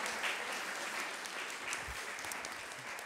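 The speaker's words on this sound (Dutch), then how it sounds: "Grote dank, applaus voor de kinderombudsvrouw!" An audience claps together in a hall, a dense, steady wash of applause holding at even loudness for a few seconds, with a few voices faintly mixed in.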